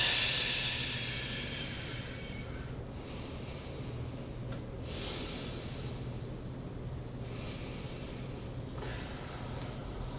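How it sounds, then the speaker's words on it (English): Slow, deep breaths in and out taken while holding a ribcage stretch: a soft airy hiss that swells and fades over several long cycles above a steady low background hum. "take 3 breaths in"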